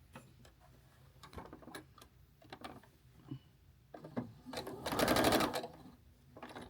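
A home sewing machine stitches a quilt block for a charity quilt, running in short mechanical bursts of rapid ticking that swell into one louder sustained run near the end, close and alone with no talk.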